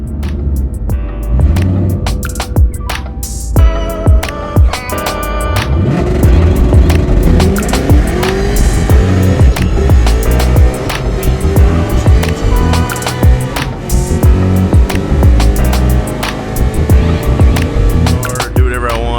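A 2013 Ford Boss 302 with a Whipple supercharger, T56 manual transmission and built rear end drives past loudly, engine roaring and revving steadily with rising and falling pitch as it accelerates, close and dominant throughout.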